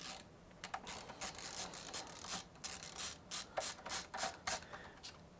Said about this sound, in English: I have my LTT store screwdriver, ratcheting screwdriver for this